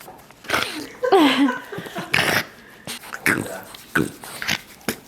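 A dog vocalizes up close in short bursts of whines, grumbles and huffing breaths, with a person's voice mixed in between.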